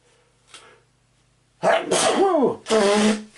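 A single loud sneeze with a sharp, squeaky nasal quality following a short intake of breath, then a second burst right after, close to the mic.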